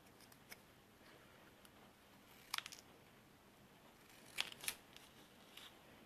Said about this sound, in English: I'm going to trim quite closely to the words.